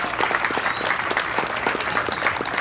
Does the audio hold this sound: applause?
yes